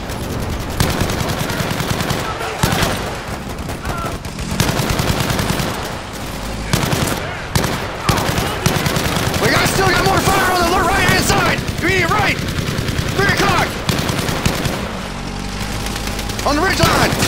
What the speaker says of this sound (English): Laying down the fire on the right flank.